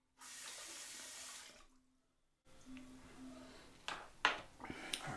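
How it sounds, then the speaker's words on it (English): A bathroom tap runs in a steady close stream for over a second, cuts off, then resumes more softly with splashes and handling clatter as someone rinses off after a wet shave. "Alright, let me get rinsed off."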